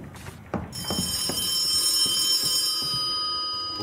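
A telephone rings in the horror game Charon's Staircase, a loud, sustained bell-like ring with bright overtones that swells after a brief onset and holds steady, with no talk over it.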